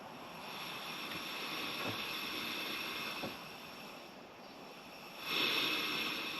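A portable card-type gas stove is opened and lit, then burns with a steady soft hissing roar that swells louder near the end, close and continuous without speech.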